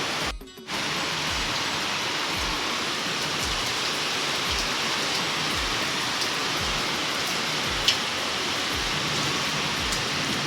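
Heavy rain pours steadily and loudly, a dense continuous hiss of water hitting surfaces close by, with a brief dip near the start and no voices.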